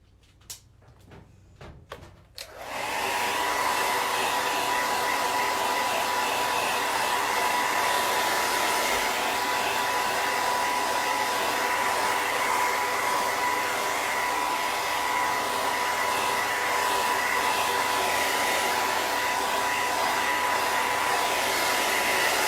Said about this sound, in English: I'm gonna dry this with my hair dryer